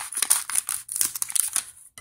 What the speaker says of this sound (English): I'm going to go ahead and take some scissors, and I can do this without cutting my fingers